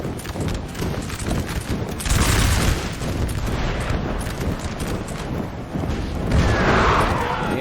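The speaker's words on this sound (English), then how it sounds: "Artillery setup, 3-pounders, very close to the French position" Three-pounder artillery in Napoleon Total War fires at close range on a French line. Heavy booms land around two and six and a half seconds over a continuous rumble of battle noise.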